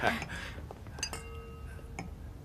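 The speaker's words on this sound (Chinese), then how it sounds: "来，我们敬顾太太一杯" Drinking glasses clink together in a toast at a party gathering: two bright, ringing clinks about a second apart, heard after a brief murmur of voices at the start.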